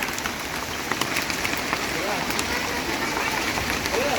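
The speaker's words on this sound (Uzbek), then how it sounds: "Biz ko'lga kelganimizda to'satdan do'l yog'ishni boshladi." Hail falling at Issyk-Kul lake during a sudden storm, a dense, steady patter of pellets striking the ground at close range, continuous throughout with faint voices in the background.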